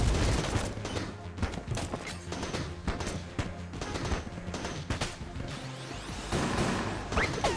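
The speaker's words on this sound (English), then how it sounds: "this is the Vertebrae K-47. I have no idea why it shoots bullets connected by chains." The Vertebrae K-47 in the video game Enter the Gungeon fires chained bullets in a steady volley of clattering shots and impacts, busy and fairly loud, with a sweeping whoosh near the end.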